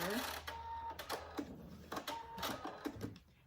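A sewing machine back stitches a dog collar in short quick bursts of stitching separated by brief pauses, close and fairly quiet.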